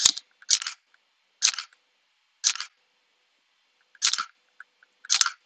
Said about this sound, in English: That sound that you're hearing when I press the shutter button is actually this little thing that I showed you going up and down.